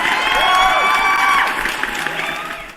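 A crowd claps and cheers loudly in a round of applause, with whoops and shouts, fading somewhat toward the end.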